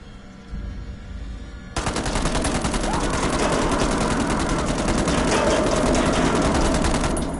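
Rapid automatic gunfire in the horror game Man of Medan bursts in loudly and keeps rattling in a fast, steady stream for several seconds after a quieter, murmuring opening.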